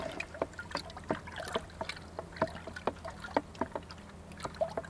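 Yeast solution being stirred into a plastic bucket holding five litres of water in a garden: soft, irregular sloshing and splashing with repeated small knocks against the bucket, fairly quiet and close, with no talk.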